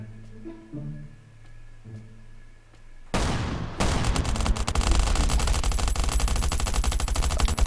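Rapid gunfire in the survival video game Last Island of Survival: a few quiet taps, then a sudden loud, dense automatic burst that keeps rattling continuously to the end.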